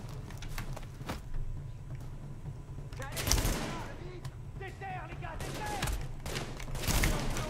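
Bursts of automatic gunfire and scattered shots ring out in Tom Clancy's The Division, some close and sharp, others farther off, while someone talks over the shooting.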